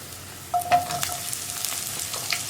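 Onion and garlic fry in a pan with a steady soft sizzle and a few scraping stirs near the start, no voices.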